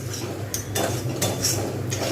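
A thick coconut and sesame laddu mixture with jaggery is stirred in a pan, with a spoon scraping and knocking against the metal in several distinct strokes over a low background hum.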